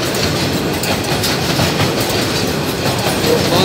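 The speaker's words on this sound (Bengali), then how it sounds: "এবং নিচে ট্রেন, বেশ বড় মালবাহী ট্রেন আছে" A large, long freight train rolling beneath the Mohakhali flyover in Dhaka, a loud, close, steady rumble with rhythmic clickety-clack of wheels on rails and no talking.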